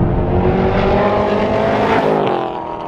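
A Ford GT MK1 fitted with a full catless Fi Valvetronic exhaust accelerates hard, its loud, rising engine roar filling the air before easing back near the end.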